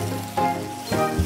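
Loud, steady sizzle from a hot pan of fried lobster as cooking wine and soy sauce hit it, a continuous hiss swelling in two surges, no talking over it.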